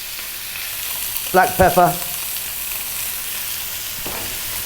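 Garlic chicken and tomato cooking in a pan over medium heat without oil, a steady soft sizzle running throughout while a person speaks briefly.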